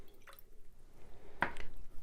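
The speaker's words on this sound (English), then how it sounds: "And then I'm going to put some water" Water trickles and drips briefly into paint being mixed for a Valentine decoration, a faint splash early on and a louder liquid pour about midway, close by and without talk.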